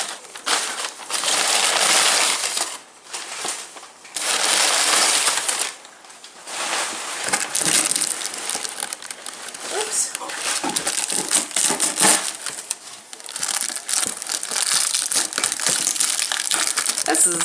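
A Philodendron plant is unpacked from a taped cardboard box, with loud, close crinkling, tearing and rustling of cardboard and packing in irregular bursts and brief lulls, and a person talks over it at times.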